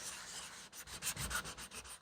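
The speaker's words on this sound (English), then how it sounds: "I got a piece of sandpaper here. It's about a 150 grit, which I'm just going to run that over the top like so." Sandpaper of about 150 grit rubbed over a wooden brush rack piece in quick, close strokes, a steady rhythmic scratchy rasp with no voices.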